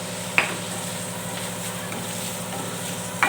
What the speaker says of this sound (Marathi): टोमॅटो आपल्याला छान असा परतून घ्यायचा आहे.